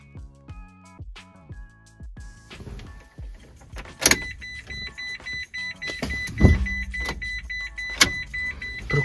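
Citroen C-Zero electric car that will not start, with repeated clicks, relay clunks and short electronic beeps and tones from the dashboard as the start is attempted again and again, close and fairly quiet.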